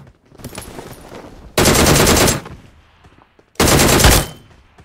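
Two loud bursts of rapid automatic gunfire from a weapon in PUBG Mobile, each lasting under a second, separated by quieter game ambience.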